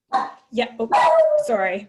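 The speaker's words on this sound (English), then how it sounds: "that's my dog." A pet dog barks in short bursts close by during an online information session, with people talking over and between the barks.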